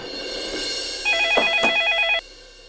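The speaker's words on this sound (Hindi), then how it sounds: "दूसरे फोन पे कॉल आ रहा है" A telephone rings with an incoming call, its electronic ring pulsing in a steady warbling pattern for about a second over a low background hum, then stopping abruptly.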